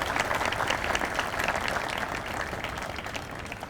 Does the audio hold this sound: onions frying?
no